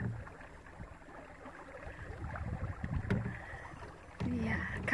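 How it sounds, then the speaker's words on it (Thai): Small boat being driven across a calm waterway toward a pier, a faint low motor hum with water wash, rising louder near the end, with quiet talk in the background. "ขับเรือออกจาก"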